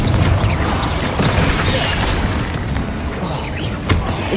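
Confringo fire spell explosions in Hogwarts Legacy gameplay: loud, dense booming blasts and crashing impacts rolling continuously, with a sharper thump near the end.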